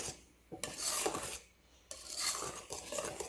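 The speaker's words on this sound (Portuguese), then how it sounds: "E mexendo com o nosso fouet." A wire whisk stirs cinnamon batter as flour is added a little at a time, giving close, brisk scraping and rasping strokes against the bowl in two quick bursts with a brief pause between them.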